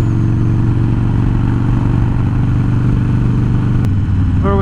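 A Twin Cam Dyna motorcycle engine rumbles loud and close while riding at highway speed around 70 mph, with a steady low throb, wind roar and a brief shift near the end.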